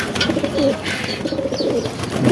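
Pigeons coo softly and repeatedly, close by, over a steady background of bird chatter and rustling, on a very hot 43°C day.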